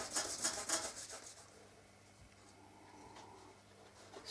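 Hand polishing the body of a Project K with micro mesh: a few quick, close rubbing strokes in a rhythmic burst at the start, then fading to faint scraping.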